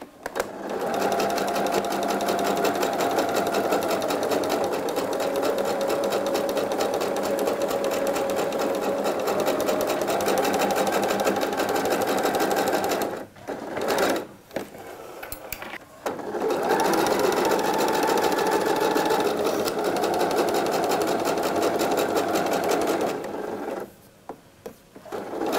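A sewing machine stitches a coat forward at a 4.5 mm stitch length, running in long, steady mechanical bursts with short pauses and stops between them.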